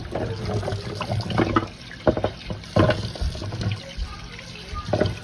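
Carrots are rinsed under a running kitchen tap, water splashing and gurgling into the sink with bursts of clatter as the vegetables are handled, close and fairly loud.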